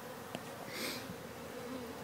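Honey bees removed from an old veterinary building hum steadily inside a hive box, a soft continuous buzz with no voices.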